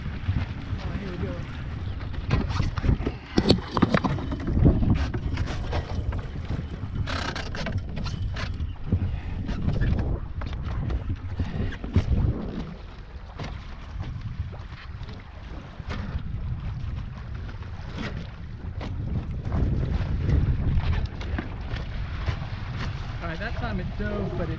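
A small sailing craft with skimming-disc amas tacking across the water: a steady rush of wind buffeting the microphone mixed with water noise, loud and continuous throughout with no clear breaks.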